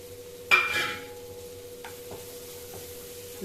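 A piece of coconut drops into a hot pan of frying turkey berry chutney, giving a sudden sizzling burst that eases into a steady low fry with occasional light stirring clinks.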